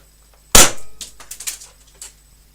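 A single sharp, loud crack from an Enfield spring air rifle being fired close by, followed by a series of fainter clicks and knocks over the next second and a half.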